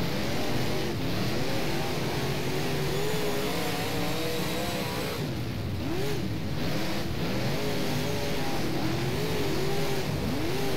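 Late model race cars roar around Kokomo Speedway in rFactor, with several engines revving and droning together, pitches rising and falling as the cars pass, in a continuous loud rush.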